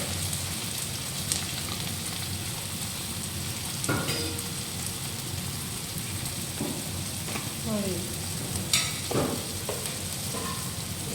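Boiled pasta with tomatoes, salt and turmeric frying in a pan, a continuous close sizzle broken by a few scrapes and clinks of stirring, with faint background noise.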